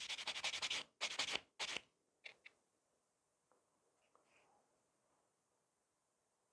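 A file is rasped across a gel nail to take off excess product: a few quick, close, soft scraping strokes in the first two seconds, then near silence.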